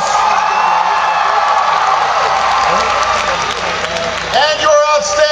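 A large crowd applauds and cheers for former Ohio governor Ted Strickland at a university political rally, sustained dense clapping with whoops and shouts throughout, swelling briefly near the end.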